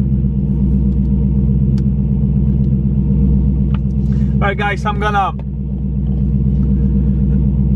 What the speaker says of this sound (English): I'm gonna go and warm the car up a little bit.